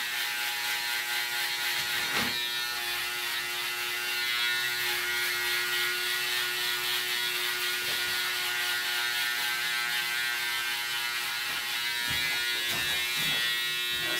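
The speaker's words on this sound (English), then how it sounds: "I like to go over with the electric shaver just to bulb it out really nice." An electric shaver buzzes steadily and close up as it runs over a tapered haircut at a barbershop, a continuous whirring hum with faint clicking, no talking.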